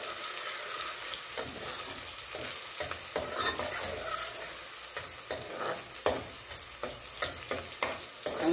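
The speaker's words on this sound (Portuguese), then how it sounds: "Já começou a dourar a cebola." Onion fries in a hot pan, a close continuous sizzle broken by repeated scraping stirs and clicks of a utensil, with no talking.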